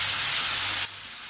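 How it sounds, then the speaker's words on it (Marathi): Green coconut-peanut paste hits hot oil with crushed garlic in a pan, giving a loud, close, steady sizzle that drops abruptly to a quieter hiss after under a second. "लसूण परतल्यावर त्यामध्ये हिरवं वाटण टाकूया, ते पण परतून घेऊ."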